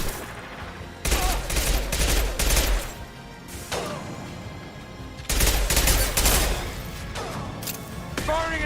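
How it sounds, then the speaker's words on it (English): Gunfire in the Mass Effect Legendary Edition shooter, set in Omega's crime underworld: bursts of shots with heavy thumps come in two dense volleys under game voices and effects. "Firing an impact shot."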